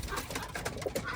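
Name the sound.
pet pigeon cooing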